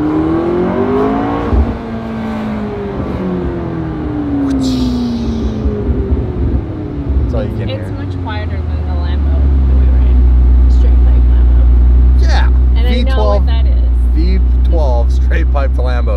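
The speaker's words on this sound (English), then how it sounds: "I'm a big fan of the turbo sounds." McLaren supercar turbo engine revving and accelerating, heard from inside the car, rising in pitch and then settling into a loud low rumble, with people talking over it.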